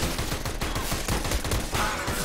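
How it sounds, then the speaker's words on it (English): Loud, rapid volleys of gunfire from Counter-Strike: Global Offensive pound continuously through a dense match, shots overlapping one another in sustained bursts without talking. "he started shooting you when you were still in the smoke"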